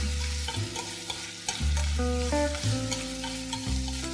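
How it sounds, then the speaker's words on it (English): Octopus being stir-fried in a wok with Sichuan broad bean paste, a loud close sizzle under repeated spatula scrapes and tosses, with tonal pan clanks shifting as the food is moved. "Add the octopus back into the pan. Stir fry again for a short time."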